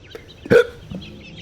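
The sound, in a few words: hiccups in the video game The Stanley Parable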